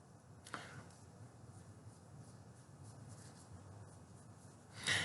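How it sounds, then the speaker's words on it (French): A pencil sketching lines on plain paper for an isometric technical drawing, giving a faint, steady soft scratching with a sharper stroke near the start and a louder scrape at the end; no talking. "je vais dessiner ici des lignes un petit peu plus longues"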